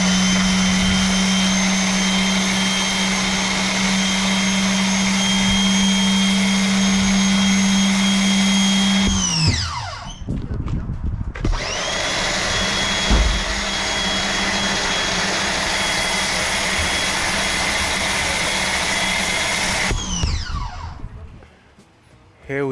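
A pressure washer sprays down a 1964 Mercury Comet Cyclone, a loud steady hiss with a motor drone that cuts out briefly near the middle and then runs again before stopping.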